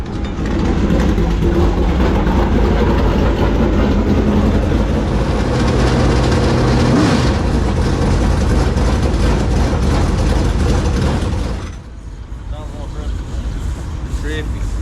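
A dirt track race car's engine after a carburetor swap, run in the pits during a Blue-Gray 100 race at Cherokee: loud, deep, close rumble holding steady for most of the stretch, then dropping sharply to a quieter idle, with talk over it.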